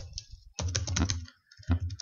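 Typing on a computer keyboard while entering board dimensions into a text document, heard as a quick burst of close key clicks with a pause, then another short flurry.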